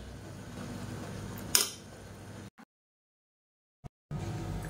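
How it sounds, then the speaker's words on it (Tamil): A mixie jar is lifted out and handled with a short metallic clatter and a sharp knock. A brief silence follows, then a light tap and renewed low background noise. "மிக்ஸி ஜார் எடுத்துக்கலாம்."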